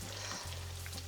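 Fish fry in hot oil in a Jamaican-style fry fish feast, a soft, steady sizzle and crackle heard briefly as the pieces are turned.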